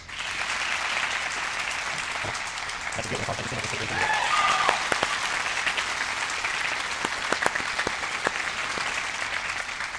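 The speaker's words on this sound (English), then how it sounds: "we'd like to recognize you with a round of applause" Graduation audience at a Christian academy ceremony breaking into sustained applause, a dense steady clatter of many hands filling the room for several seconds, with a few spoken words near the start under the clapping.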